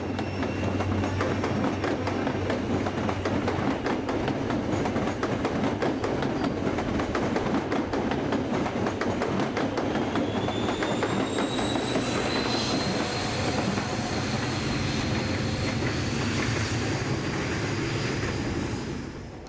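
An HST high speed train rushes past close by with a sustained roar of wheels on rails. High squealing tones rise in the second half before the sound begins to fade at the end.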